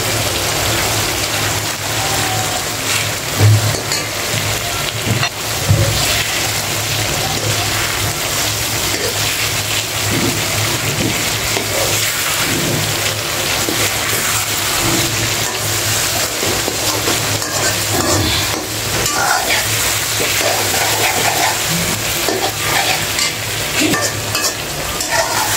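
Koi fish fry in hot oil with cumin powder, making a dense, continuous sizzle close up, with light stirring scrapes throughout and no voices.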